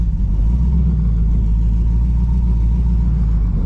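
Twin turbo Mustang under acceleration, a loud, steady low engine rumble with a deep throbbing drone heard close up from inside the car, with no talking.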